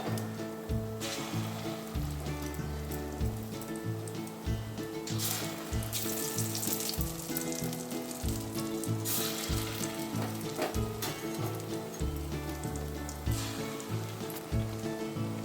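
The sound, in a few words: gondho patali leaf fritters frying in oil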